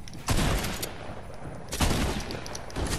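Video game gunfire crackles in two loud, dense bursts of rapid shots, each trailing off before another volley starts at the end.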